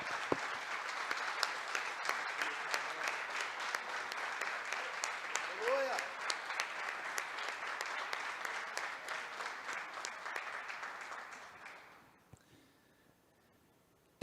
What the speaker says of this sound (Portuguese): Eu gostaria que você aplaudisse ao Pai, ao Filho, ao Senhor Espírito Santo.